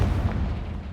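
A Confringo fire spell blasts in Hogwarts Legacy, a dense, rumbling low boom that stays loud and sustained for the whole second with no talk over it.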